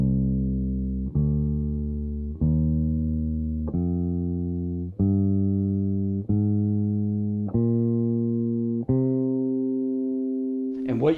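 A minor scale played on bass guitar: eight evenly spaced plucked notes climbing in pitch, each sustained until the next, with the final note ringing longer, close-miked and unaccompanied.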